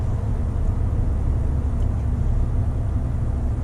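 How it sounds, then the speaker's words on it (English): A 2019 Toyota Tundra TRD Pro's engine while driving, a steady low rumble with road and cabin noise, constant and even in level with no talk over it. "the engine sound"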